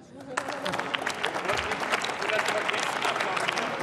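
Applause breaks out in the German Bundestag during a debate on animal welfare, a dense, steady patter of many hands clapping through the chamber with some murmuring underneath.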